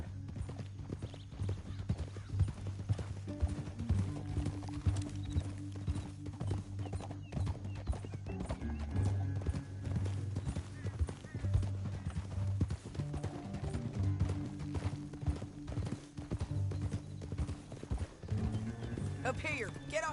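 Horses' hooves clip-clop steadily on the ground throughout, a continuous rhythmic patter under a western-style soundtrack, with occasional whinnies and voices mixed in.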